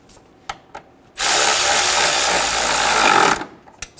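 Power ratchet or drill tightening airbox bolts into the battery tray of a 2011-2014 Hyundai Sonata, one loud steady whir lasting about two seconds, close up, framed by faint clicks and handling noises.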